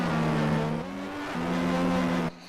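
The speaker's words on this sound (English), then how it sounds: "Just listen to the sound of those cars as they go through." Formula race car engines in a video game drone steadily with a sustained buzzing whine that shifts pitch as the cars pass, then cuts off near the end.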